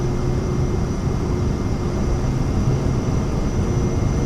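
Steady, loud jet roar from a FlightFX Vision Jet engine at takeoff power in Microsoft Flight Simulator, a continuous broadband rumble with a faint high whine that holds even throughout, with no talk.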